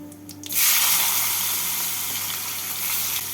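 A large amount of chopped onion drops into hot oil already crackling with bay leaves and white cumin, bursting into a loud, bright sizzle after a quieter moment, then frying steadily close by with no voices.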